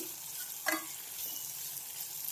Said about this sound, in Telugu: ఆనియన్స్ పచ్చిమిర్చి వేసాను ఈ ఆనియన్స్ కూడా లైట్గా వేగనివ్వాలి